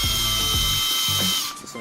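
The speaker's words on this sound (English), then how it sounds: "I got my little drill bit" A small drill bit whines at high speed while boring a pilot hole in a new Ford Super Duty truck part, steady and close for over a second with faint knocks underneath, then spinning down abruptly.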